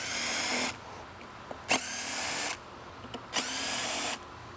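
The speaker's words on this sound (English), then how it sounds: "we're going to go ahead and remove the clutch spring bolts" Power tool backing out motorcycle clutch spring bolts, three sustained high-pitched whirring bursts separated by short pauses and small clinks, close and loud.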